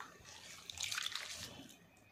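Fresh dill greens being washed by hand in a basin of water, with a soft, continuous sloshing and splashing that swells briefly in the middle before settling, close by and with no voices.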